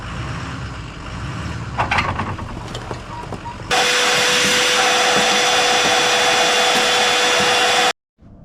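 A loud shop vacuum suddenly roars to life beside a 6.0 Silverado pickup whose fuel line is badly rusted, a steady high whine held for several seconds before cutting off abruptly, preceded by clanks and rustling.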